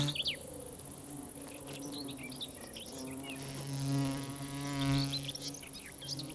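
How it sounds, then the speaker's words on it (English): A close bee wolf digger wasp buzzes with a low droning hum that swells louder and fades, accompanied by faint chirping birds in the background. "The bee wolf is a digger wasp that specializes in killing bees."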